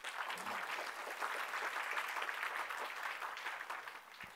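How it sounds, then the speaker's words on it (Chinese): An audience at a security conference talk on kernel exploits claps for about four seconds after a live exploit demo, a dense, steady burst of applause that fades slightly at the end. "那这边可能需要大家的一些掌声"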